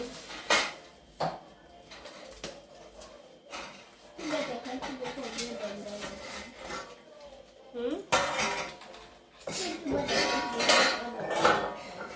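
Metal pieces from a 96-piece German Design cooking set, including a casserole, clank, clatter and scrape as they are handled and set down close by, in irregular bursts, with people talking over the clanging.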